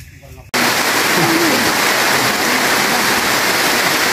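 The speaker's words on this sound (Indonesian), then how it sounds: "Tiba-tiba hujan turun guys, deras banget ya." Sudden heavy rain bursts onto a forest on Mount Tampomas after a moment of quiet, becoming a loud, steady, dense roar that continues unbroken, with brief faint voices near the start.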